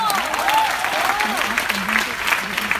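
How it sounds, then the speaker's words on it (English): Audience applause for the hospitality team at a college event hosted at Christ University, a dense, steady clapping lasting the whole stretch, with voices and cheers faintly mixed underneath. "can we give a huge round of applause to the hospitality team?"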